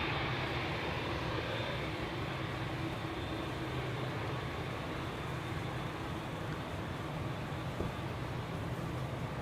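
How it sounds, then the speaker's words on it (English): A KLM airliner bound for Bogota departs Amsterdam Schiphol, producing a sustained, fairly distant jet roar with heavy low-end rumble that stays steady throughout. "This is KLM flight 749 to Bogota in Colombia"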